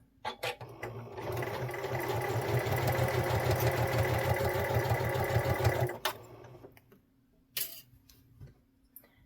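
A sewing machine stitches steadily down a seam of a Shannon Fabrics Bambino Minky cuddle kit, running continuously for about six seconds before stopping, followed by quiet handling noises and a brief click.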